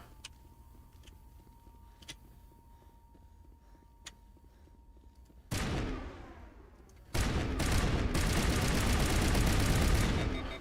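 A weapon fires in Mass Effect Legendary Edition: a few sharp isolated shots over a quiet hum, then a loud burst and finally a sustained, dense stream of rapid gunfire near the end, with no talking.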